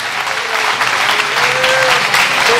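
A church congregation claps loudly and continuously during a Portuguese-English sermon, the dense applause filling the moment with no speech over it.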